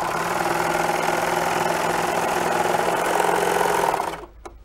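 A serger stitches steadily through an elastic casing at the front of a garment, sewing over the original stitching line and fold, with a continuous mechanical whir at close range that runs for about four seconds and then stops abruptly.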